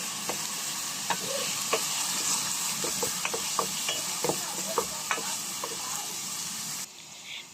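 Onion and garlic sizzling steadily in a pan, with a dense frying hiss and occasional scraping stirs, before the sound drops off near the end.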